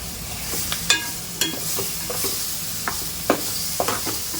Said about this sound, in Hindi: मैं इसके साथ में थोड़ा देर फ़िश को भी डाल दूँगी और इसको थोड़ा टाइम भून लूँगी फ़िश को डाल के।